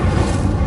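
An Incendio fire spell cast in the video game Hogwarts Legacy gives a loud, dense, booming whoosh that fills the whole brief moment without a break.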